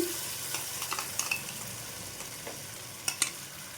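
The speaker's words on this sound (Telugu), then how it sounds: "ఇప్పుడు ఇందులో మనం గ్రైండ్ చేసి పెట్టుకున్న పుదీనా పేస్ట్ని అయితే వేసేసుకుందాం" Ground mint paste hits a hot pan and fries for mint rice, making a gentle, continuous sizzle with occasional sharper crackles and light stirring scrapes, close and fairly quiet.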